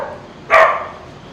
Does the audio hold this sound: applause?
no